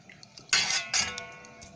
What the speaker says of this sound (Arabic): غنبقى نحرك بحال هكا حتى يغلى